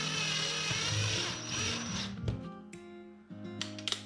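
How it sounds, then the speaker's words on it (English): A power drill bores a small hole, whirring steadily and closely for about two seconds before winding down, followed by a few light mechanical clicks and rattles. "drill a hole"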